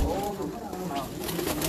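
Soft, low cooing from female blue-tailed Kalsa pigeons held close by, a steady throaty murmur running beneath a voice.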